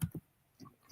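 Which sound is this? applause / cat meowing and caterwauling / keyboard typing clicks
keyboard typing clicks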